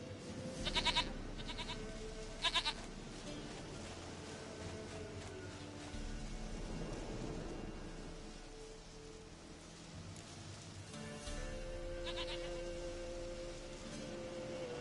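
Goat bleating in The Witcher game amid steady rain-like ambience, a few short bleats spaced apart across the stretch, fairly faint and with no talking.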